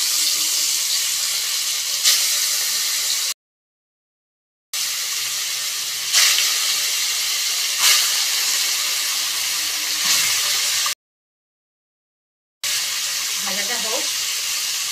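Fish sizzles in hot oil in a steady, close hiss broken by two short silent gaps, with occasional brief spatters and clicks rising above the frying.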